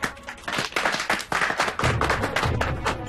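A small group claps on cue during a Hindi television show, uneven bursts of hand claps with some thumps, close and fairly loud for about three seconds.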